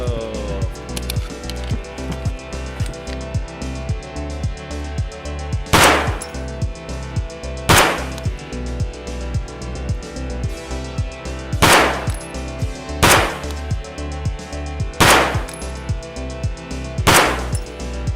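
Pistol fire in the video game Escape From Tarkov: several sharp, loud single shots spaced a second or two apart, over a continuous rumbling game background.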